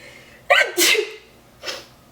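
One sharp sneeze with a quick intake of breath, followed a moment later by a short voiced sound, close up.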